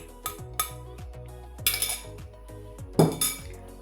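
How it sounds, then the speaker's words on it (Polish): A spoon stirring a yeast mixture for cheese buns, clinking repeatedly against a bowl in a steady rhythm, close and fairly soft, with a few brighter scraping knocks. "I teraz mieszamy łyżką."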